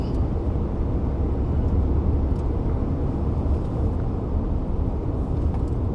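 A 2020 Proton X70 CKD SUV with a seven-speed gearbox accelerating up into 7th gear on the highway: a steady, loud, low engine and road rumble fills the cabin without a break.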